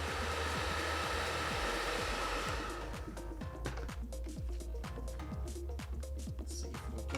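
A heating tool blows hot air on a Google Pixel 3 under repair, giving a steady close rushing hiss, with faint clicking and handling taps through the second half.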